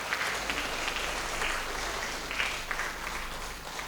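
Wedding guests applaud together in a dense, steady patter of many hands that sounds fairly faint and distant, holding at an even level throughout.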